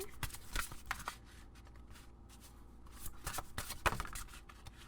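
Tarot cards shuffled and drawn from a deck during a reading, quiet papery riffles and slides in several short bursts with soft handling noise between, no voices.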